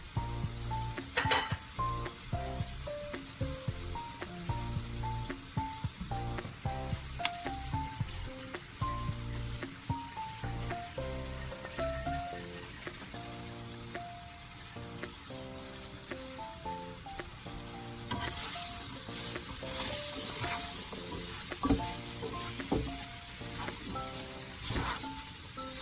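Mushrooms sautéing in a pan for a homemade Salisbury steak, a steady close sizzle and crackle of frying with occasional stirring scrapes, running without pause and with no talk.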